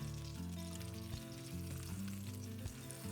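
Honey-glazed teriyaki salmon fillet sizzling steadily in a hot pan as it is flipped, a dense continuous frying hiss close by with steady level and an underlying hum, no talking.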